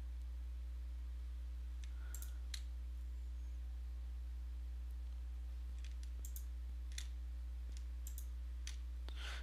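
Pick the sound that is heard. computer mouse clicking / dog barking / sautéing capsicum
computer mouse clicking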